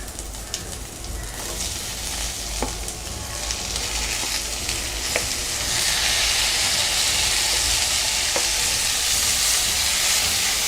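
Onions and tomatoes sautéing together in a pan for a South Indian tomato kuzhambu make a steady close sizzle with occasional stirring scrapes, growing louder and hissier partway through, with no talking.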